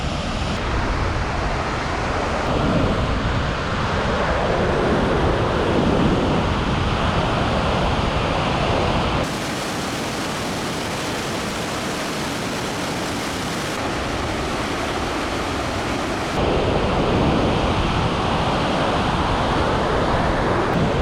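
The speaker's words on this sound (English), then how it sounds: "The rush of water coming through there" A loud, continuous roar of water rushing through Jackson Lake Dam in Grand Teton National Park fills the whole stretch, broadband and unbroken, dipping slightly in the middle before swelling back.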